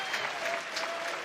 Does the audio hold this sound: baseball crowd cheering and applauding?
yes